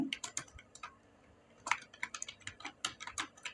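JavaScript code being typed on a computer keyboard, quick bursts of crisp key clicks with a brief pause partway, close and fairly quiet, no voices.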